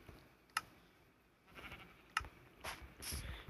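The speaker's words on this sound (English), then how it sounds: "this stupid sheep over here. Stop eating my grass" Sheep in Minecraft bleat in short, faint, separate bursts against a quiet background, with a few soft clicks between the calls.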